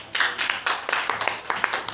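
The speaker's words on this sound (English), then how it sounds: "Can you clap your hands for Jesus?" A church congregation clapping hands together during a sermon, a quick uneven series of claps lasting a couple of seconds, moderately loud and close.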